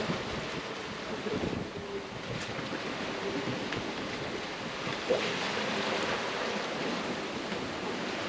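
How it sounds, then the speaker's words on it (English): Large ocean waves, ten feet and more, roll and surge around a sailboat on rough open Pacific water, a steady broadband wash with wind buffeting the microphone throughout and no voices. "And the casual 10-foot plus waves."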